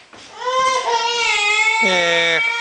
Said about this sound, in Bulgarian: Чакайте снимам сега как ревеш.